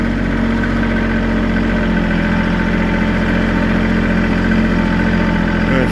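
A Kubota tractor engine chugs steadily at low revs while creeping through a Mopar salvage yard in springtime, a close, continuous diesel drone with no talking.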